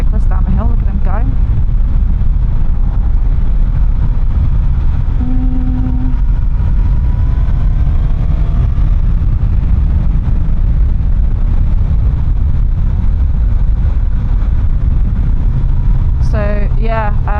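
A Suzuki GSX-S1000GX motorcycle riding downhill on the road, a steady loud engine drone mixed with heavy wind rush close to the rider, and a few short voice fragments come through over it.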